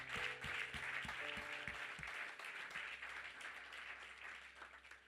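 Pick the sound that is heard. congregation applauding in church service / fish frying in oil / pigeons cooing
congregation applauding in church service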